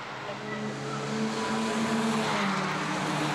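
VW Fun Cup Evo race cars at Zolder in 2014 roar past with a sustained, droning engine note whose pitch shifts slightly as they run close by on the circuit.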